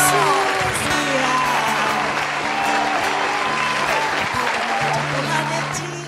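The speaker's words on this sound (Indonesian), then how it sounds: "Tepuk tangan adik-adik buat Tuhan Yesus." Clapping during an online Sunday school service, a busy patter of hands over a held musical backing and voices, steady and loud, tapering slightly at the end.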